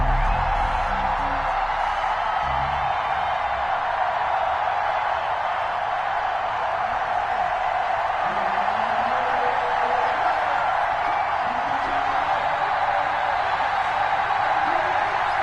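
Stadium crowd in an EA Sports NFL video game before a Cincinnati Bengals versus Baltimore Ravens matchup, a steady dense roar of cheering that holds at full loudness throughout, with a low voice faintly under it.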